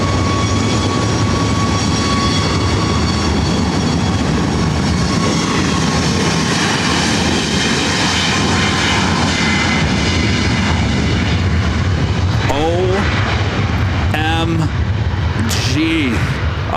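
A Lufthansa Boeing 747 taxis at LAX, its jet engines producing a loud, steady broadband roar with a faint whine that holds throughout. A voice speaks briefly near the end over the engine noise.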